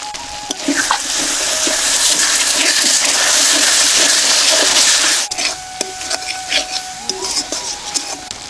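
A bowl being washed under running water in a kitchen: a steady rush of water for about five seconds, then the flow stops and a few light clinks and drips follow nearby.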